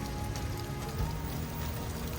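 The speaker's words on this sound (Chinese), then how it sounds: "下雨了，从这边走" Steady rain pours outdoors during a windy storm in Mississippi, a dense, even hiss of drops on surfaces that runs without a break.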